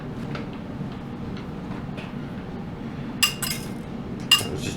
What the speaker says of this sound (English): Now all we're going to do is mix this up in a bowl and it's going to be done.